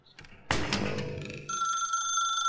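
A telephone rings in The Stanley Parable, a loud electronic bell tone that enters after some clattering sounds and holds steady to the end.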